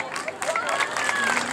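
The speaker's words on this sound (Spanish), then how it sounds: "Fuerte el aplauso para los cuatro." Audience applause at a copla singing gala in Sedella, a short burst of hand clapping mixed with crowd murmur and a few cheers, fairly close and steady.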